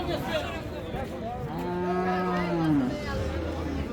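A Friesian dairy cow lows at a busy cattle market in Dinajpur, one long drawn-out moo rising then falling, fairly close over a background of crowd murmur and market bustle.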